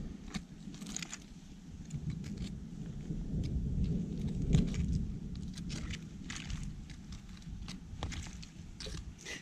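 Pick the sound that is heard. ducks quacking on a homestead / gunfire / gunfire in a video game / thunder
thunder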